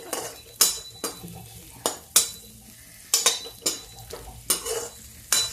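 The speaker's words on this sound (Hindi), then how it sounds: "घी गरम हो गया, इसी में मैं सारे मेवे डाल दूंगी, अलग से नहीं फ्राई करूंगी।" Mixed dry fruits fry in hot ghee while a spoon stirs and scrapes the pan, with a steady sizzle broken by regular scraping strokes about twice a second, close and clear with no speech.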